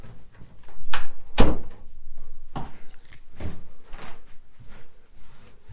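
An interior door in a house for sale in a southern Russian village opens into another bedroom, with a few loud thuds and knocks of the door and handle over a few seconds, and shuffling in between.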